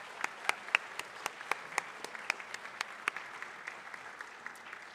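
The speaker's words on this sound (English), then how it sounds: "Let's clap for everyone who did a declamation last night." Students clap for declamation speakers at a school morning gathering, a sparse, uneven patter of separate claps from a smallish group, fairly close and steady for the whole stretch without voices.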